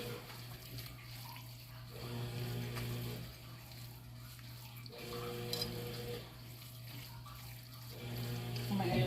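A kitchen tap runs water while stuffed shells are being cooked, a soft steady flow under a constant appliance hum, with faint pulses as the stream shifts.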